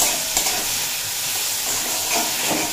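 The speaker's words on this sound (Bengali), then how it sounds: "কেটে ধুয়ে রাখা কুমড়ো, সাথে দিয়ে দেব স্বাদ মতো লবণ আর পরিমাণ মতো হলুদের গুঁড়ো দিয়ে খুব ভালোভাবে ভেজে নেব।" Cut pumpkin pieces with salt and turmeric fry in a pan over medium heat. A loud, continuous sizzle carries on throughout, with soft scraping and stirring strokes mixed in.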